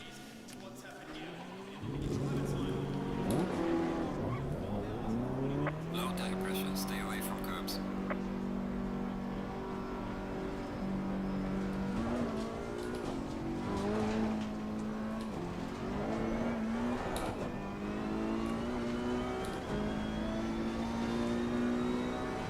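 A Ferrari race car accelerates hard from a standstill onto a lap, engine note climbing through the gears with rising and falling revs, heard from close by, with speech over it.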